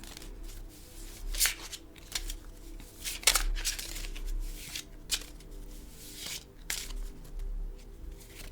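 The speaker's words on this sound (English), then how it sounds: "I'm going to pick one of the cards in here." Tarot cards from a deck handled and picked up close by, a run of soft papery shuffles, slides and flicks with a few sharper snaps, alone with no talking.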